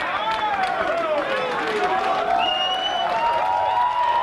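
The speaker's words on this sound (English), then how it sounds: "And the crowd loves it." A crowd at a mixed martial arts fight in Minnesota keeps up a steady roar of cheering and applause throughout, with whistles and voices rising and falling inside the dense noise, while speech also sounds.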